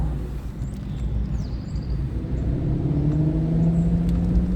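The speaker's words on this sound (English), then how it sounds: "Check out that exhaust." Aston Martin DB9 pulling away from a stop, its engine and exhaust giving a steady low rumble that grows slightly louder as it gets under way, heard from close by with no talking.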